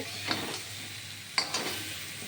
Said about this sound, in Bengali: এই যে এবার নাড়াচাড়া